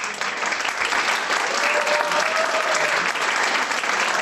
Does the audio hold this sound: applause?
yes